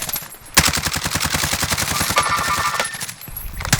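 Sustained automatic gunfire in Call of Duty Warzone, rapid close shots rattling continuously for several seconds with a sharp burst near the start and overlapping distant shots.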